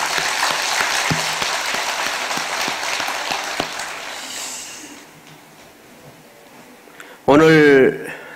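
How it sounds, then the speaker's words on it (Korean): Audience applause at a Korean Buddhist temple service, a dense patter of clapping that gradually fades away, followed by a brief burst of a voice near the end. "우리 모든 분들을 위해서 큰 박수 한번 부탁합니다."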